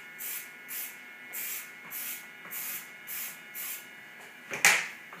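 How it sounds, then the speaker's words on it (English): Acrylic spray paint can applied in light coats: eight short, evenly spaced hissing bursts close by, followed by a sharper clatter near the end. "the secret with spraying is lots of light coats"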